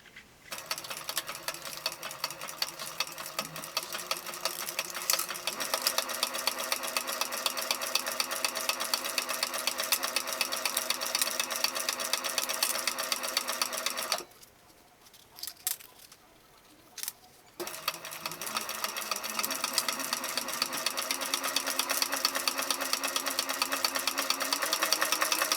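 A sewing machine runs steadily up close, stitching and backstitching a 3/8 inch backpack seam with a rapid mechanical whir. It stops for a few seconds midway, then resumes for another long run.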